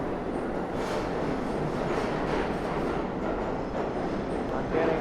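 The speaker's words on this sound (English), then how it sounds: "This is a Brooklyn-bound R train." A New York City subway R train, Brooklyn-bound, rumbles continuously with a steady roar and faint rail clatter, heard from inside or close by.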